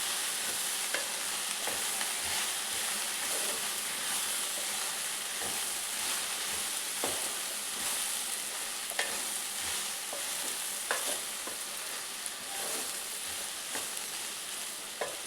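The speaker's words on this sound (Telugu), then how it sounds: "నేను ఇప్పుడు లిడ్ ఒకసారి ఓపెన్ చేసుకొని కలుపుతాను" Okra (bhindi) is frying in an AMC pan under a constant loud sizzle, with scattered scrapes and taps from the stirring spoon. The sound is close and continuous and carries no voices.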